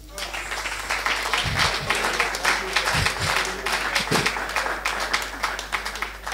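Audience applause and clapping at a French stand-up comedy show, a dense sustained wash of many hands throughout, with a few faint voices mixed in.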